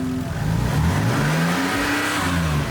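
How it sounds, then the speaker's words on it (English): A car engine fires up and revs, its tone climbing and falling in steady, loud surges that fill the short stretch with no talking over it. "Now fire up the car."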